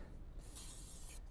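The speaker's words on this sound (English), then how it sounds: "the other thing you can put on there is just a bit of silicone spray" A short hiss of silicone spray lubricant applied to the swivel mechanism of a Volkswagen T5/T6 double passenger seat, one quiet burst of under a second against a low background hum.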